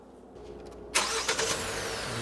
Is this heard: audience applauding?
no